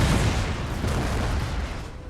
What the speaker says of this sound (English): The explosions are awesome, and you can see the toll that it's taking on my men